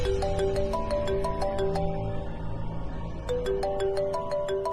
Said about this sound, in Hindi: बार बार फोन आ रहा है